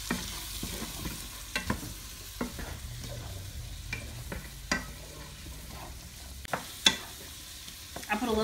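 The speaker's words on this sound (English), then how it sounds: "now I'm just kind of trying to break up these onion chunks so they cook a bit faster" Onion chunks frying in butter in a pan with a pinch of salt, a soft continuous sizzle broken by irregular clicks and scrapes of a utensil stirring them, no talking.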